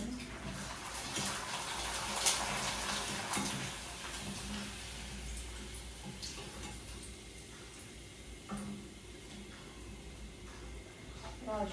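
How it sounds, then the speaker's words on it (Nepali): Dishes are washed under running water in a home kitchen, a steady faint stream with scattered clinks and taps of utensils, while someone talks softly over it. "मेरो भाँडा पनि मोलिसक्दैछु होइन"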